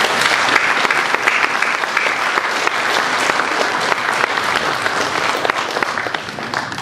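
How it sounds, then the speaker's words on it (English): A high school graduation audience applauds the parents in the room, a loud, sustained round of clapping from a large crowd that stays steady throughout. "I think the parents in this room deserve your applause."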